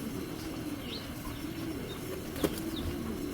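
A black checker grizzle racing pigeon held in the hand, soft flurries of wing flapping with a sharper flap near the end, faint against a steady background hum.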